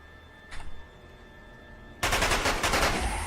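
Battle rifle firing on full automatic in the game Cataclysm DDA: a rapid, loud burst of close gunfire crackles for over a second after a brief faint click, with no talking.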